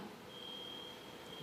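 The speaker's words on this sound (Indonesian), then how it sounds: "Ini bunyi alarm atau apa ya?" During a church sermon, an electronic alarm sounds a single steady, high-pitched tone that holds unbroken for over a second. It is faint and sits over a quiet room hum.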